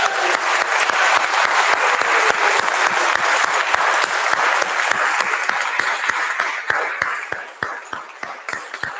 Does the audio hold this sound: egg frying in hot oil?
no